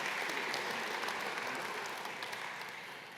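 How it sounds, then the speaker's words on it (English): A conference audience at the Austrian Academy of Sciences applauds continuously, the dense clapping sounding full and close before tapering slightly toward the end. "that's your applause right here"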